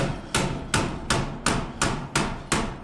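A cordless nail gun fires seven sharp, evenly spaced shots on a corner store building job, each crack loud and close with a short decay before the next.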